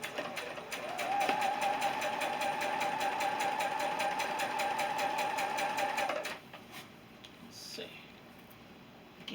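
A sewing machine stitches seams on quilt fabric for a nine patch block, running in a fast, steady, close rattle for about six seconds before stopping, leaving a quiet room with small handling sounds.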